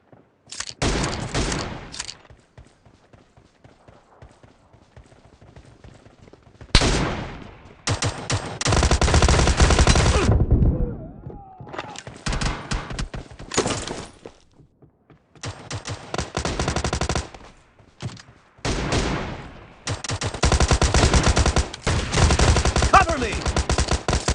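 Rapid shotgun blasts and automatic gunfire from a PUBG Mobile team deathmatch, coming in loud dense bursts separated by short quiet gaps, with brief game voice callouts between volleys.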